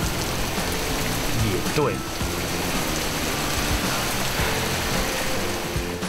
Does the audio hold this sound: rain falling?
yes